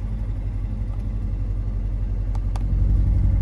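A C7 Corvette fitted with the NPP exhaust runs with its valves closed, giving a steady, muted low rumble that stays even throughout and swells slightly near the end.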